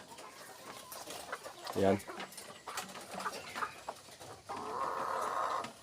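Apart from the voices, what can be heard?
chickens clucking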